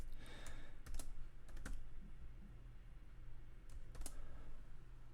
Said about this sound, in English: And I'm just going to type,